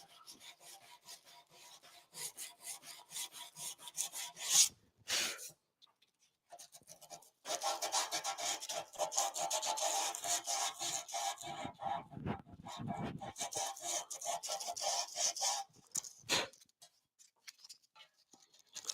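Hand sanding a motorcycle fuel tank with 180-grit sandpaper: close, soft rasping strokes in quick rhythmic bursts, pausing briefly, then resuming with a longer steady scrubbing stretch.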